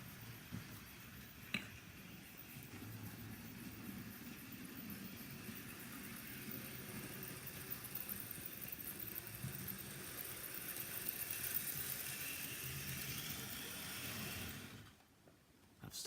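Hornby model train engine running on a layout, a faint, steady mechanical whir and rumble with a small click early on, before it cuts off near the end.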